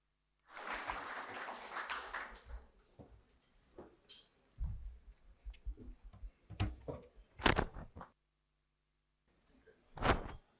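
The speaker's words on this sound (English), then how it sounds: "Please give a huge round of applause for Kulbhushan Sharma." Applause breaks out at an awards ceremony, a burst of many hands clapping for about two seconds, then thinning into scattered claps, knocks and handling noises with pauses of near silence.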